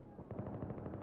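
Rapid automatic gunfire in the game Battlefield 3, a short burst of closely spaced shots with a steady rhythm, fairly loud and heard on its own.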